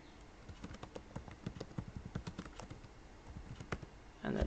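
Soft keystrokes on a computer keyboard tap in an irregular quick run, faint and close, ending in a slightly louder key press, with no voices.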